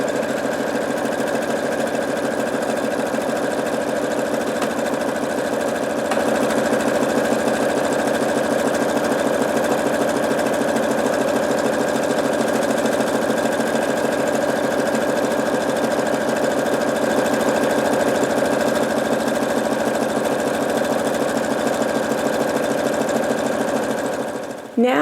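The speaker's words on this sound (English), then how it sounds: "I'm going to go ahead and stitch from one end all the way down to the other end" A sewing machine stitches fabric for a turban headband in one long, steady run, its fast rhythmic mechanical whir and knocking continuous and close for about 25 seconds before stopping.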